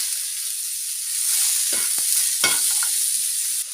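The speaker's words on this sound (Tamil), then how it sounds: "வெங்காயம் லேசாக வதங்கிடுச்சு இப்போது ரெண்டு பெரிய சைஸ் கேரட்டை உள்ளே சேர்த்துக்கலாம்" Onion and two large carrots sauté in a pan for a chutney, a continuous close hiss of frying broken by several sharp spatula scrapes and knocks against the pan.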